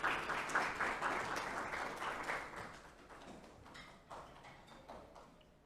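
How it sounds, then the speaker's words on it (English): Guests at a business breakfast meeting give a fairly faint round of applause that welcomes a speaker. It starts fuller, then thins into scattered individual claps over several seconds. "Let's welcome him with a round of applause."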